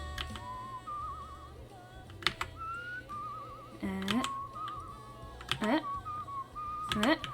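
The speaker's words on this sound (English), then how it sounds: "We gotta whistle." Short whistled melodic phrases come from a character in the video game Where the Water Tastes Like Wine. The whistling repeats several times over soft background clicks and a faint low voice.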